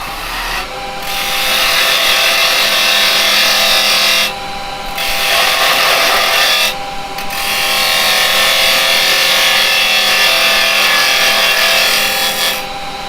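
A wood lathe spins a wooden hat while a carbide chisel trims its rim, producing loud, close, rasping cutting noise in long sustained passes broken by a few brief pauses.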